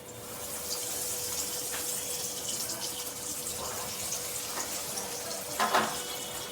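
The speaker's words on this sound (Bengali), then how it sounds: "তেল এবার গরম হয়ে গেছে, একে একে এবার চপ ছাড়তে থাকবো।" Fish chops frying in hot white oil over a medium flame, giving a steady hiss and crackle throughout with a brief louder sputter near the end, no talk.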